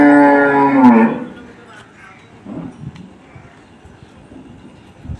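At a cattle market selling cows and buffaloes, including Jersey and Gir crossbreeds, a cow lets out one loud, close, drawn-out moo, then fades into background market bustle and scattered voices.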